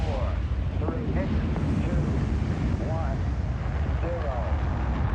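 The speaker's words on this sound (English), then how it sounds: "Ignition sequence starts." Apollo 11 rocket engines igniting, a broad continuous roar and rumble heard through a radio-style broadcast, with a voice talking over it.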